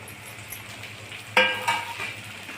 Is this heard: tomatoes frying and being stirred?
yes